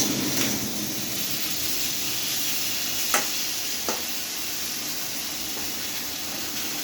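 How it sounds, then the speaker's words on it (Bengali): Kochur loti fried with spices and jaggery in a pan, a continuous close sizzle and hiss, with a couple of sharp spatula scrapes and taps as the mixture is stirred. "এটাকে একটু নাড়াচাড়া করে একটু ঢাকা দিয়ে দিয়ে এটা ভেজে নিতে হবে।"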